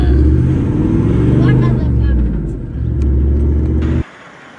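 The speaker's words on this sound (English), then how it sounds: "you're driving the Land Cruiser" A Toyota Land Cruiser engine runs steadily on a closed 4x4 track, a loud low rumble with a brief rev that cuts off near the end, while voices talk over it.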